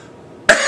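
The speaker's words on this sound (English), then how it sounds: "That was the first time I swear I've coughed." A single sharp adult cough bursts out suddenly after near silence during an indoor talk, loud and close.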